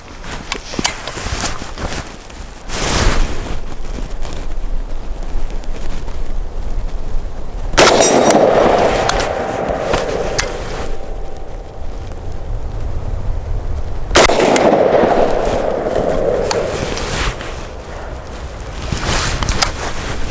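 A Thunder Ranch VSKA AK-pattern rifle fires at a range target: about four loud single shots spaced several seconds apart, each a sharp crack followed by a ringing metallic tail.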